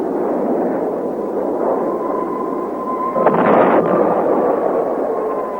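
Deep rumbling blasts from a B-52 heavy bomber dropping conventional bombs over Vietnam in archival war footage, a continuous low roar with a sharper, louder burst partway through.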